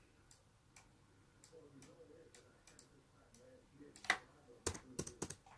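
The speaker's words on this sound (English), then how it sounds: "we'll just type over it" A computer keyboard is used to type Morse code into an online translator, sparse light clicks that build to a few louder, sharper key strikes near the end, with some faint talk in the background.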